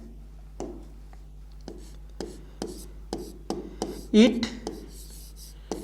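A teacher writes on a board during a lesson: crisp, evenly spaced strokes and taps repeat one after another, with a quiet voice talking faintly in between.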